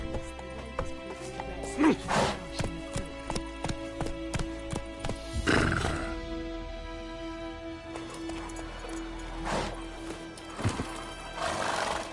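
Geralt's horse Roach from The Witcher 3 on PS5, neighing and whinnying several times with hooves clip-clopping between calls, close and fairly loud with no talk.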